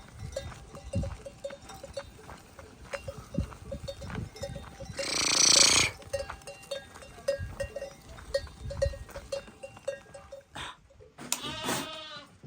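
Sheep bleat now and then amid a herd, with a clanking bell ringing steadily and a loud, close bleat near the end.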